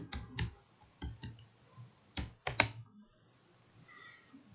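Keystrokes on a computer keyboard as a command is entered in a terminal: short bursts of close, crisp clicks with brief pauses between them, and no speech.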